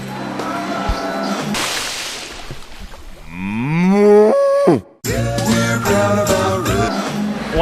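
Dairy cows moo loudly inside a rotary milking parlor, several long, drawn-out bellows rising and falling in pitch, close by, with machinery clatter and a brief gap between calls.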